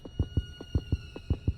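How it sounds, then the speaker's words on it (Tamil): Game heartbeat in the horror game Granny: a quick, regular series of low thumping beats, about seven in under two seconds, over a faint steady hum. "இது இங்கே உட்காந்து ஹார்ட் பீட் சவுண்டு இருக்குது."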